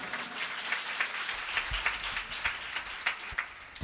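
An audience at a Bhagavad katha gathering in New Delhi applauds the guru with dense, sustained clapping that holds steady throughout, with no voices heard over it.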